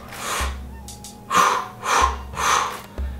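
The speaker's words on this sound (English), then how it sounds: "make sure that you're breathing strong with your diaphragm in" Forceful diaphragm breaths from a breathing exercise, heard close up as about four strong, rhythmic puffs of air in quick succession.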